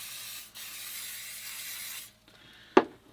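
A spray bottle hisses onto steak in a caravan kitchen, one long steady mist of spray, a brief pause, then a weaker spurt ending in a sharp click, close and quiet.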